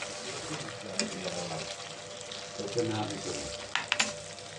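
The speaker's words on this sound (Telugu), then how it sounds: "దీంట్లో మనం ఆల్రెడీ ఫ్రై చేసుకున్న దొండకాయలు వేసుకున్నామండి కొంచెం కలుపుకున్నాం" Fried ivy gourds being stirred into a tomato masala curry, giving a steady frying sizzle with soft scraping stirs and a few sharper clinks near the end.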